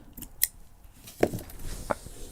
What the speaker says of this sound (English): So I'm gonna snip this